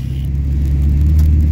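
A car drives through a blizzard on a newspaper delivery run, its engine and road noise a steady, close, low rumble with no voices.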